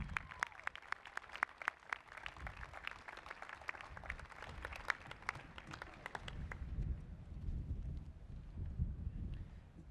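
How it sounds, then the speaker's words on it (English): A crowd at an undergraduate commencement applauds outdoors, scattered sharp claps at first that blend into rumbling wind noise and a faint, spread-out ovation. "Let's give them a round of applause."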